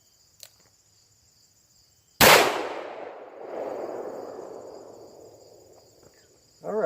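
A single loud shotgun blast from a CCI 44 Magnum big 4 shotshell cracks sharply nearby, then rolls away in a long fading echo over several seconds, with faint outdoor insect chirping before and after.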